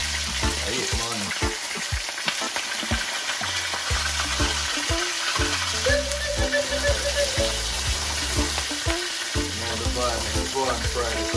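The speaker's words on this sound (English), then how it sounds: "Go and fry it a bit more." Fish frying in a pan for Jamaican brown stew, giving a loud continuous sizzle and crackle up close, with stirring and scraping noises scattered through it.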